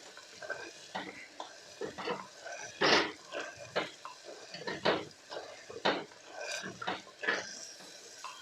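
Chana daal masala crushed with a crusher in a cooking pot gives a string of irregular knocks, scrapes and clatters against the metal, close and moderately loud, with no talking.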